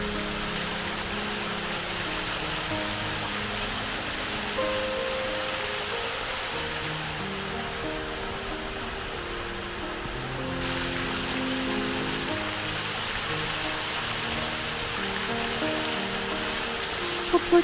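Large and small waterfalls spread across the Anban valley at Manhyujeong in Andong make a constant, even rush of falling water, a soft broad hiss that continues unchanged for the whole stretch.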